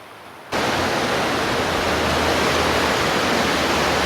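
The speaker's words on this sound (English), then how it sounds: "this current right here is so strong right now with all the rain" A rain-swollen creek running high and strong, a loud, dense, unbroken rush of water that starts abruptly after a brief quiet moment and continues steadily up close.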